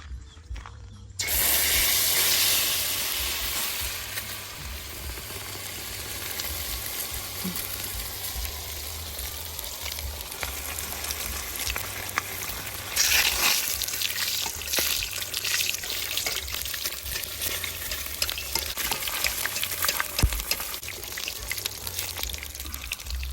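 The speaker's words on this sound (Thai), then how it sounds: "เสร็จแล้วก็ ทอดเลย" Basil and beans frying in hot oil, a steady broadband sizzle that starts abruptly and holds, growing a bit louder and busier partway through, with no talk over it.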